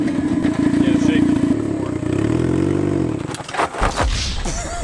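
Turbocharged Mazda Miata engine revving up and holding high rpm, a loud, raspy, droning note that climbs and then drops away into rumbles and clatter, with people talking over it.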